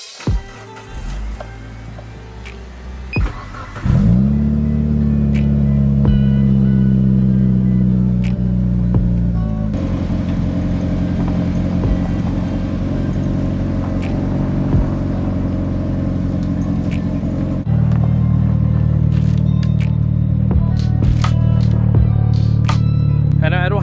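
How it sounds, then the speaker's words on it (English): Two Mitsubishi Lancer Evolution cars, one an EVO 8, warm up in a driveway. After a few bumps and a start, a steady, loud engine drone settles in. The low rumble shifts in tone twice as the engines keep running. "let's go ahead and pull the two EVOs down the driveway, warm up my car, and then also warm up her car."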